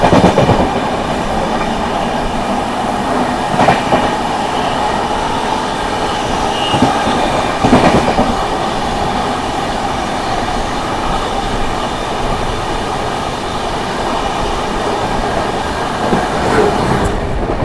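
The Prayagraj Humsafar Express (22438 from Anand Vihar Terminal) runs past Etawah Junction while overtaking the New Delhi–Islampur Magadh Express, a loud, steady rail roar with faint clicks of the wheels, heard from on board.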